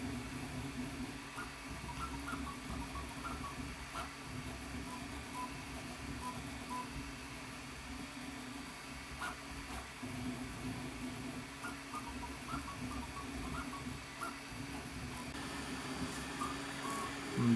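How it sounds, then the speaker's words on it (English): A RIFF220 3D printer running fast, its stepper motors giving a soft, continuous whirring hum with faint rhythmic tonal blips as the head moves, steady and fairly quiet throughout. "The printer can move quite fast, and I haven't really tried the limits for acceleration yet,"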